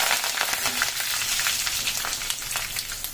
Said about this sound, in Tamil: கடுகு நல்லா பொடிஞ்சிருச்சு